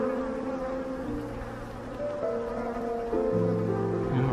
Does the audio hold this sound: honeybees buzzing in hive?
yes